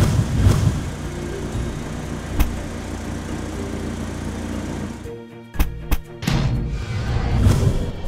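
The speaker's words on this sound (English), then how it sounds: "Sports car." A sports car engine runs in a steady mid-level drone with a few sharp bursts, then drops briefly before revving back up loudly near the end.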